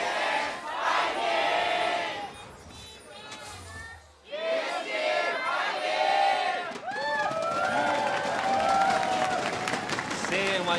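A large crowd roars and chants at the LJL 2019 Spring Split Finals, a League of Legends match between DetonatioN FocusMe and Unsold Stuff Gaming, with loud continuous cheering that dips briefly and surges again, a commentator talking over it.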